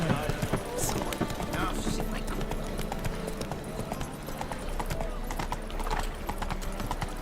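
Horse hooves clip-clop at a steady trot in The Witcher 3 video game, continuous and fairly close, with a soundtrack and voices speaking over them.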